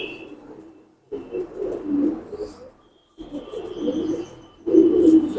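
Racing pigeons coo in a loft, three rounds of deep, throaty cooing, close and fairly loud, separated by brief quiet gaps, with faint chirps in the background.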